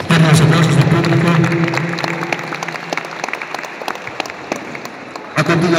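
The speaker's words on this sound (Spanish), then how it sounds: "Damos aplausos al público" An audience claps loudly at first, then the applause gradually thins into scattered claps before a voice starts up at the end.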